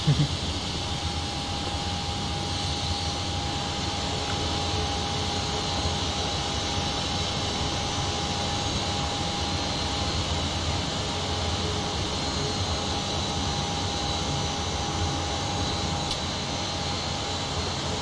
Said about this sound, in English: There's the aircraft pushing.